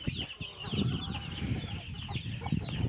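An Arab chicken clucking among a backyard flock, with repeated short clucks and scratchy calls over a busy low rustle of birds moving nearby.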